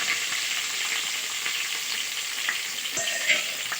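Cumin, mustard seeds, green chillies and onions frying in hot oil, a dense continuous crackling sizzle close by with a few faint pops and clinks, no talking.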